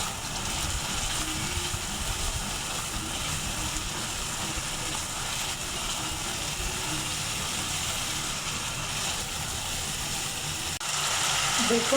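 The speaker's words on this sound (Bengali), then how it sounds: "এখন মশলাটাকে কষিয়ে নেব দেখুন" Spice paste sizzling as it is sautéed in a pan for Bengali fish bhuna, a steady close frying hiss that continues evenly with a faint stirring scrape, no talk over it.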